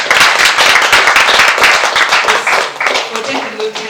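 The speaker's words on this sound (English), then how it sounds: "let's clap for them" An audience claps at a mental health awards ceremony, dense rapid applause that stays steady and close, with voices underneath.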